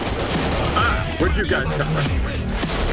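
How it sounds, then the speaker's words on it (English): Gunfire in a first-person shooter video game, dense bursts of shots and crashing impacts running throughout, with someone talking over the action. "Who's shooting me?"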